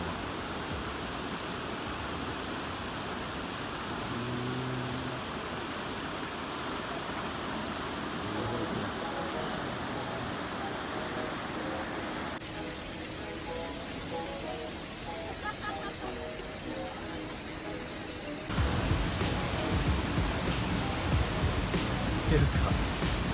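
A mountain stream rushing through Yokogo gorge on Yakushima, its water running high, makes a steady broadband roar that swells louder toward the end, with faint voices now and then.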